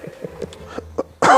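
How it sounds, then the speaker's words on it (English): A single sharp cough bursts out at the end, close and loud, after a brief stretch of soft, scattered mouth and breath noises. "Oh, I don't know where this cough came from."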